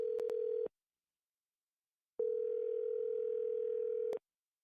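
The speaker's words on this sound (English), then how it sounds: "I'll dial her phone number right now" A telephone dial tone hums steadily, cuts off, then returns for about two seconds with faint clicks as a phone number is being dialed; no voices.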